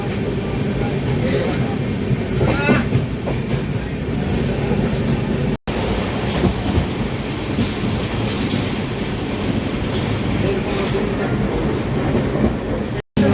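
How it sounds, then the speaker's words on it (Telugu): Rolling along the tracks out of Eluru, the Prasanthi Express passenger train gives a constant loud rumble with rhythmic clatter, heard from inside the coach under ongoing background voices. "మన ట్రైన్ అయితే ఏలూరు నుంచి బయటకు వెళ్ళిపోతుంది"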